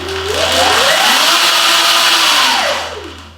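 Sur Ron electric motorbike accelerating with aftermarket spoke covers fitted: the motor's whine rises in pitch, holds high and falls away over a few seconds, loud and close, with no rattling and no voices.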